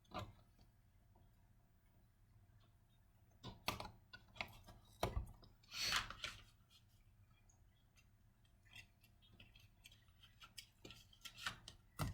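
Scissors trim cut-out flower pieces, soft close snips and rubbing clicks in irregular bursts, a few sharper cuts near the middle and end, with no talk.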